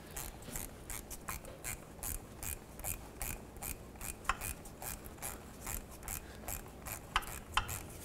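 A 7mm socket on a ratchet loosens an exhaust hose clamp on a 2013–2019 Ford Escape, making faint, rhythmic rasping clicks in short, regular bursts.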